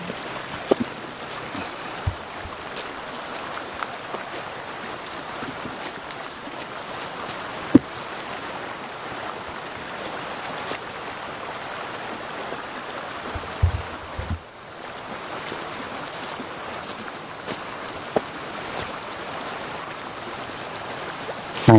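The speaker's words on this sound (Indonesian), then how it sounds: "cari sumber suara air itu." Water flows steadily in a stream near a spring, a continuous soft rush and trickle heard from fairly close with a few faint knocks and rustles, no voices.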